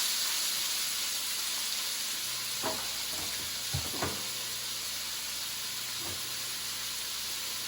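Ingredients for southwest egg rolls, with cumin and garlic on the way, sizzle steadily in hot oil, a constant hiss broken by a few brief stirring scrapes and clatters near the middle.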